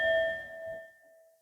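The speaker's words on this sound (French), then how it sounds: "Je remettrai bien un petit coup de gong" A small gong is struck once up close, giving a bright, ringing ding whose tone fades steadily over about a second.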